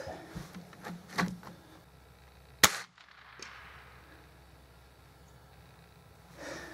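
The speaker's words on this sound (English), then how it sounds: "Every time I shoot these darn things, I always get a kick out of that supersonic crack." A Gamo air rifle fires a light Gamo Raptor pellet, giving one sharp, loud supersonic crack that dies away quickly into quiet, with faint handling noise before the shot.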